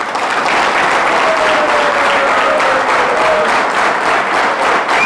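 An audience at a leadership training program speech breaks into loud, sustained applause, a dense wash of clapping from many hands that holds steady without pause.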